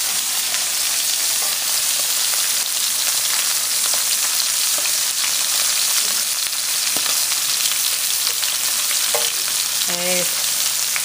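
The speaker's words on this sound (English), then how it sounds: "so I'm gonna flip the scallops" Scallops sizzle and crackle steadily in a hot frying pan beside salmon, a loud, dense hiss filling the whole stretch, with a few faint clinks and scrapes near the end and no one speaking.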